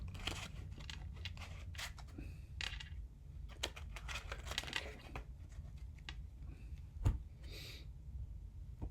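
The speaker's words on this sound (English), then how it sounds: "be careful when you shuffle these because they can go flying at any time" Crisp riffling and snapping of playing cards being shuffled, a run of quick papery flutters and taps close by, with no talking.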